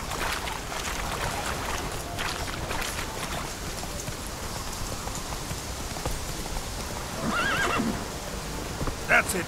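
Horse Roach from The Witcher 3 gives a loud neigh near the end over steady rain and hoofbeats, with voices talking through the scene.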